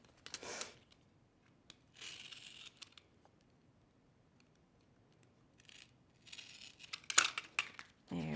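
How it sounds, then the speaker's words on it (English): An X-Acto knife slices through duct tape in a few short, close scraping bursts separated by near silence, ending in a quick cluster of crisp crinkling cuts. "I'm going to use my X-Acto knife, just cut straight on down, and this piece should just peel away."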